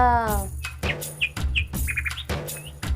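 Short, bright bird chirps come in quick bursts over a rhythmic backing track, clear and near, with a voice briefly heard at the start.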